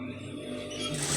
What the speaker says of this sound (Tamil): இப்போ நான் 1/4 இன்ச்சு அளவுக்கு வந்து தையல் போடுறேன்.